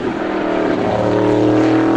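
A race car runs its lap on a quarter-mile oval at Star Speedway during time trials, a loud, continuous engine drone held at steady high revs with no break.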